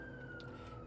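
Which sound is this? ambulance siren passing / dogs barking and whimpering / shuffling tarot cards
ambulance siren passing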